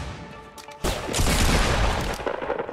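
A turret opening fire in Fortnite: a quiet lead-in gives way to a sudden, loud, sustained burst of rapid shots that keeps rattling until the end.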